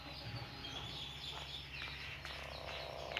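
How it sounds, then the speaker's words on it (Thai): Chickens cluck faintly in the background of a quiet indoor scene, with soft, scattered fowl calls over a low, steady hum. "ขออภัยกับเสียงไก่ด้วยนะ"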